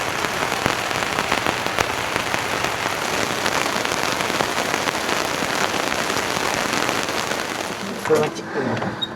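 Heavy rain pours steadily at a campground during a camping trip, a dense unbroken hiss of drops close by that barely changes for the whole stretch and drops away briefly near the end.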